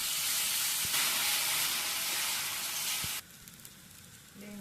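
Adai dosa batter spread on a well-heated griddle gives a loud, steady hissing sizzle that drops suddenly to a much quieter simmer for the last second or so.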